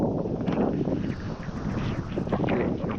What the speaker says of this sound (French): On a enfin un peu de vent, on a environ 10 nœuds voilà, de vent.